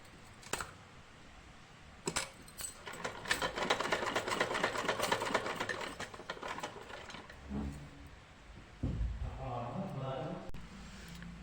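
Sewing machine stitching a lace strip onto a belt-style blouse, running in a steady rapid whir for several seconds, with short starts and stops and someone talking over it.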